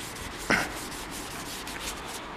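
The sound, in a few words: light sanding of a wooden gun stock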